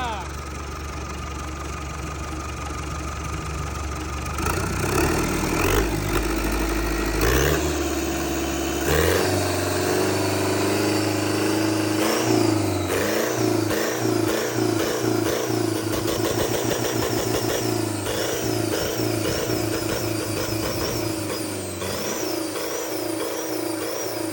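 Hino W04C turbo diesel engine rated at 145 horsepower, starting from a low idle and then revved repeatedly in loud surges that rise and fall, with some talk faintly over it.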